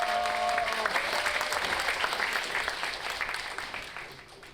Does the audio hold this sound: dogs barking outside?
no